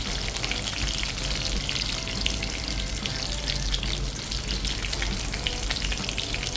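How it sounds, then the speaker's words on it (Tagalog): Chicken tenders deep-frying in hot oil, a dense, steady crackling sizzle close by, with continuous fine popping and bubbling and no voices. "Prituhin mo lang yan ng mga 6 to 8 minutes hanggang sa maging golden brown and crispy"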